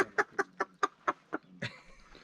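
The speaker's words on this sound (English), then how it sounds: "There's the chickens." Chickens in a small Moroccan village clucking in a quick rhythmic series of about eight sharp, close clucks, ending in a longer drawn-out call, with no talk over them.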